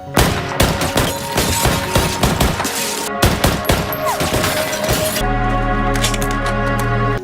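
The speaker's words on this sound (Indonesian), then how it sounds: "terjadilah baku tembak di antara mereka" Rapid gunfire bursts in a film shootout between a sniper's team and their enemies, loud dense volleys of shots with crackling impacts, ending in a sustained low roar.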